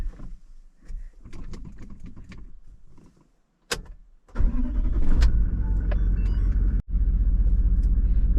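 A car engine, probably four-wheel drive, cranks and starts after a few clicks and a door thud, then settles into a loud steady idle with a short break, while a person speaks briefly early on.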